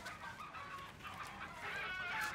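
Faint, scratchy chicken clucks and squawks over a noisy background, brief and somewhat muffled.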